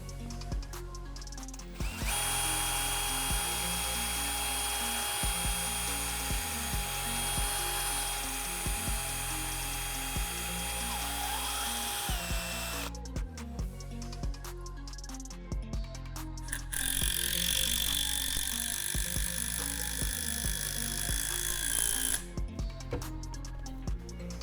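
Power drill driving big timber lock screws into a heavy wooden conference table, with two long high-pitched whining runs and a third shorter one, loud and close, separated by clunks and handling noise.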